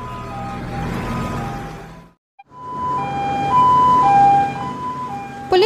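A police truck siren wails loudly in stepped, rising and falling tones, cutting out briefly before starting up again.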